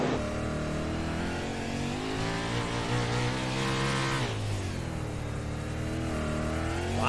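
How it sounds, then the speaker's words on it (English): Several 410 sprint cars race on a dirt track in an International series event, their engines roaring loud and continuous with rising and falling revs as drivers work the throttle through the corners. "Lots of throttle control here in these 410 sprint cars."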